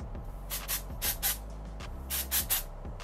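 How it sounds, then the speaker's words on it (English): OGX dry shampoo sprayed onto a synthetic wig in several short hissing bursts, mostly in quick pairs, close and fairly loud with brief pauses between them. "So I'm going to hit it with a little bit of dry shampoo."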